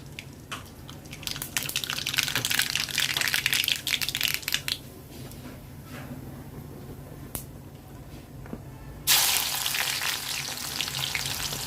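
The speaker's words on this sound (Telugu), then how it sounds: "కడాయి పెట్టి నూనె పోసాను కాగింది కొంచెం ఆవాలు వేస్తున్నా" Mustard seeds splutter and pop in hot oil in a kadai for a Telugu chicken fry, a close, steady sizzle that flares louder toward the end, with no voices.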